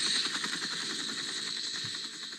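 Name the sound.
helicopter engine noise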